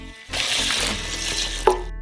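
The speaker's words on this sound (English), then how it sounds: "Pour in 2 liters of water." Water poured into a saucepan holding buckwheat, a continuous splashing rush beginning after a short pause and running steadily, with a brief louder splash near the end over a low background hum.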